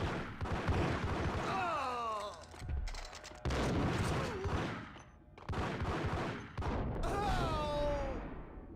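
Max Payne video-game gunfire, dense and loud, in three long sustained volleys separated by brief gaps, with a voice-like sound over parts of it.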